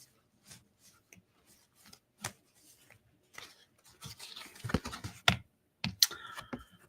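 A tarot or oracle card deck being shuffled, a series of soft, quiet riffling and tapping bursts that grow busier and louder toward the end, with no one speaking.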